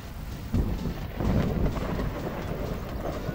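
Thunderstorm weather in the video game Virtual Rides 3: rolling low thunder rumbles swell at about half a second and again near one second, over a steady hiss of rain that continues throughout.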